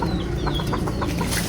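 A startled chicken clucks in short, rapid bursts close by, over a steady low background hum.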